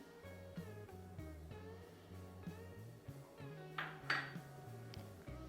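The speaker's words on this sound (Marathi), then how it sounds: "आता यामध्ये आपल्याला बेसन पीठ ॲड करून घ्यायचं आहे" Gram flour (besan) going into a bowl of coarsely ground mung bean tikki mixture, with a few light clinks of utensil against bowl over a steady tonal background, a brighter clatter near the end.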